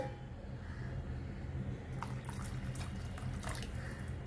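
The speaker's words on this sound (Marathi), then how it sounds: "त्यामध्ये आता गरम पाणी थोडंसं घालून घेते." Hot water poured into a simmering chickpea curry gives a soft splashing, bubbling pour over a low steady hum, faint and close.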